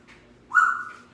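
A pet bird lets out a single bright, loud whistle that rises sharply and holds briefly before fading, heard close by in a quiet home kitchen.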